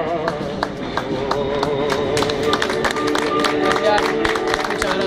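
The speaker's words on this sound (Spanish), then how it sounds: "Muchas gracias por ese aplauso" A street crowd in San Telmo, Buenos Aires claps for a tango performance, scattered sharp handclaps mixing with murmuring voices and lingering tones at moderate distance.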